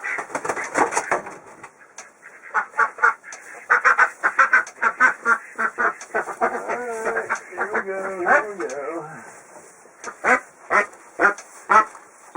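Khaki Campbell ducks quacking up close in rapid bursts, several birds calling over each other, with a human voice briefly mixed in midway.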